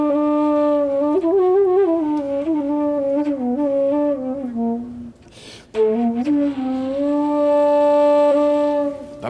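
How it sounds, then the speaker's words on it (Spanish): A unique handmade flute with double finger holes plays a sustained, pure-toned melody of gliding, bending notes, loud and close, with a short breathy pause midway. "No mucha gente la puede tocar tampoco porque tiene dobles agujeros y hay que utilizar un solo dedo para poder tocar"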